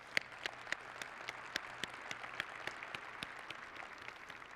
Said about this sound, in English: So how about we give these guys a round of applause?